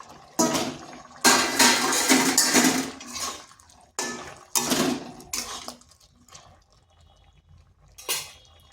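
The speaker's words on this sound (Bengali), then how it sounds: "এরপর দিয়ে দিচ্ছি পটলগুলো।" Pointed gourds going into a cooking pot with boiled potatoes and pumpkin for a vegetarian curry: a series of loud clattering and splashing bursts of pieces dropping in, separated by short quiet gaps.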